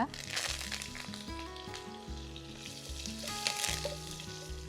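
Mustard seeds and curry leaves fry in sesame oil for mango pickle, giving a close, crackling sizzle with bursts of spitting and some stirring, with no voices heard.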